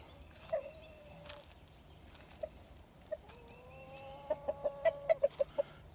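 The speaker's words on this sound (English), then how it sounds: "Got the chickens over here." Chickens cluck close by outdoors, a few scattered single clucks and then a quick run of sharp repeated clucks at the end, over a low steady background hum.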